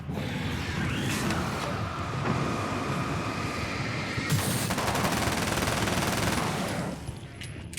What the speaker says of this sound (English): Gun go brrrr